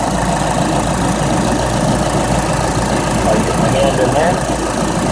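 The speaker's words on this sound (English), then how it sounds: "we've got the vehicle started" A car engine runs at a steady idle during an alternator voltage drop test under the hood, a continuous close rumble with someone speaking briefly over it.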